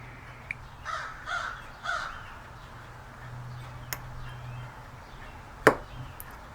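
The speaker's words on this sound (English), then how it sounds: "I told you there was crows around here." Crows caw three times, fairly far off, followed by sharp cutting clicks and a loud snap as small model ship pieces are worked at a bench.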